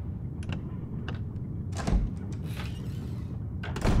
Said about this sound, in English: The door won't open.